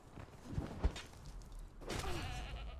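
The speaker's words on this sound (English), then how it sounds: "be careful with these rams. They tend to knock you off the mountain. Or mountain goats rather, not rams." Mountain goats in the video game Conan Exiles on a cold mountainside let out a couple of bleats near the start and a longer, louder bleat near the end, heard close over a low rumble.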